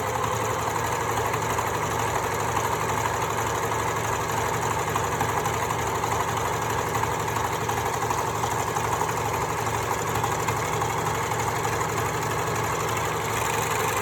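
A Janome 6234 XL overlocker runs steadily and close up, its motor whirring in a continuous mechanical hum with no pauses and no talking.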